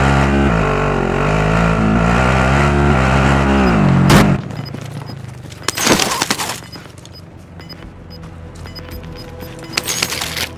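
A car's engine drones steadily while driving in the video game Warzone. After a few seconds, a loud crash and shattering break in, followed by scattered gunshots and clatter.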